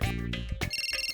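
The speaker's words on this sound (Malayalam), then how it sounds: "സ്വിച്ച് ഓഫ് ചെയ്ത് വച്ചതിന് ശേഷവും ഫോൺ ബെല്ലടിക്കുകയാണല്ലോ." Cartoon phone ringtone repeating in short electronic bursts, a bright patterned ring after a lower melodic lead-in, loud and alone with no talk.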